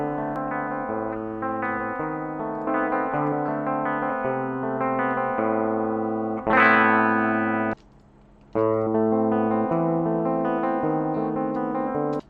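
Electric guitar played through Scarlett and RME audio interfaces one after the other, a sustained chordal passage with rich harmonics, loud and steady, a brief gap near the end before it resumes.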